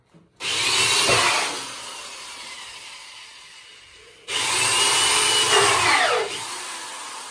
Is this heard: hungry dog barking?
no